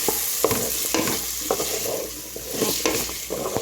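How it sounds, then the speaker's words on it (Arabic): Salsify slices cut into rounds frying with onion in a pan, stirred now and then, giving a steady close sizzle broken by a few scraping stirs, with no voices. "قصيتهم دوائر بالشكل هذا ونولي نقليهم مع البصله"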